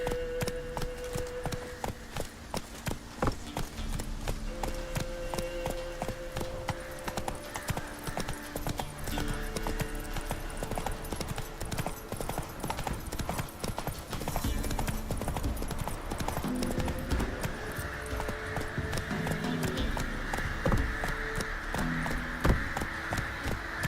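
A horse's hooves clip-clop in a steady trotting rhythm while riding in the video game Witcher 3, continuous and fairly close, with game music under it.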